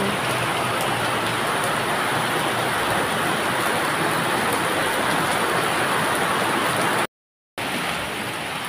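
Heavy, wind-driven rain in Taiwan, a loud unbroken roar of falling water that continues steadily, briefly cut to silence near the end before resuming.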